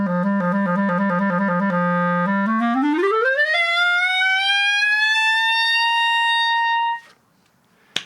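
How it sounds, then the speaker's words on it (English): A solo instrument plays the famous opening glissando from Rhapsody in Blue, starting from G: rapid repeated low notes, then a smooth, loud upward slide to a high held tone that cuts off abruptly near the end. "Here's the gliss as it would sound starting from the G."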